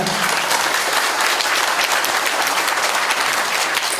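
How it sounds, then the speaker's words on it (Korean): Audience applause at a reconstruction briefing meeting in Yeouido, a loud, continuous clatter of many hands filling the room at a steady level. "박수 한번 부탁드립니다."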